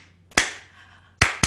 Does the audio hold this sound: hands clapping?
yes